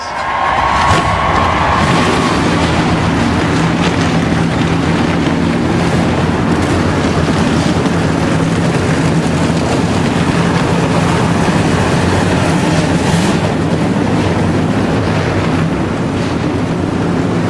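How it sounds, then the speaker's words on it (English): NASCAR stock car engines fire up at Richmond International Raceway for the 2002 Pontiac Excitement 400, a loud, sustained roar of many engines over wind and crowd noise, no talk. "Drivers, start your engines."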